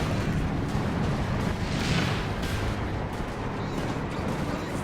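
A Panzer IV tank being destroyed in Company of Heroes 2, a dense rumbling wash of distant explosions and artillery fire, steady and muffled with no distinct single blast standing out.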